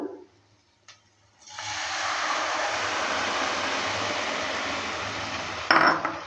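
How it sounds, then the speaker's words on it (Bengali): Boiled bean seed dal with spices sizzling loudly in a pan after a brief clink, a steady hissing fry that runs several seconds before a sharper metallic scrape of stirring near the end. "দেওয়ার পর ভালো করে নেড়ে চেড়ে দিচ্ছে"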